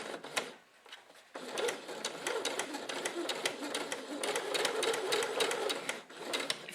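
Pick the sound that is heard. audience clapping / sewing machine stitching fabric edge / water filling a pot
sewing machine stitching fabric edge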